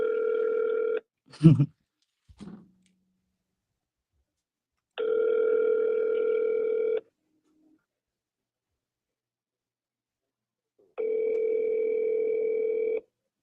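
An unanswered phone call rings back as steady electronic tones, three long two-second bursts separated by silent gaps, clear and close, with a couple of brief handling knocks near the start.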